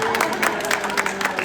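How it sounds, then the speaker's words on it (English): A stand-up comedy audience claps for a set, a dense patter of scattered hand claps from a small crowd, moderately loud and continuous over its short span. "Thanks for clapping on that one."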